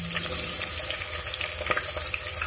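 Green chillies and chopped onion frying in hot oil for a chicken curry, a steady broadband sizzle with small crackles and a few soft clinks, close and continuous with no talking.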